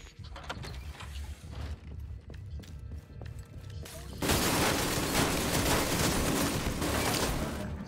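Ammo stockpile in The Division 2 detonating after a stretch of clattering mechanical and gunfire noise, breaking into a sustained, loud, crackling roar of exploding rounds.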